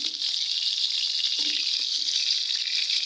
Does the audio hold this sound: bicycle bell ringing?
no